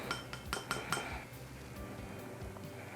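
Brown mica pigment is scooped into a container for fall-scented soap, heard as a quick run of light clinks and taps from a scoop striking the container, then quieter faint rustling.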